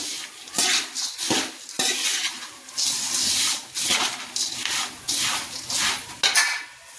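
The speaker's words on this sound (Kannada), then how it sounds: "ಇದು ಸ್ವಲ್ಪ ಮಿಕ್ಸ್ ಮಾಡ್ಕೊತಾ ಇದ್ದೀನಿ ನೋಡಿ" A spatula scrapes and tosses a puffed rice mandakki oggarane mixture around a metal pan, with repeated rasping sweeps and clatter in bursts, close and loud, alone without talk.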